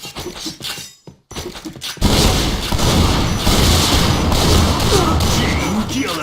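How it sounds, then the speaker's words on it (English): A bomb explodes in a video game after a brief lead-in, erupting into a loud, sustained roaring blast that rumbles on to the end. "Bomb exploded"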